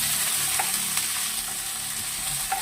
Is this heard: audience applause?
no